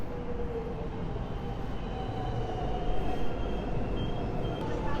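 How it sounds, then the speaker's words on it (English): A train pulls into Reservoir Station, a steady rumble of wheels on rail with faint squealing tones, close and continuous, swelling slightly near the middle before settling. "as my train arrives into Reservoir Station"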